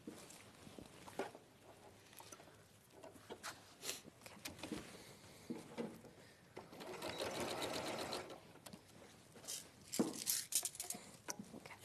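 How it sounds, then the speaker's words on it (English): A sewing machine stitching the rest of a garment's armhole runs in stretches of steady whirring and needle chatter, with short pauses between, quiet and close. "So I'm just going to sew the remaining of the armhole."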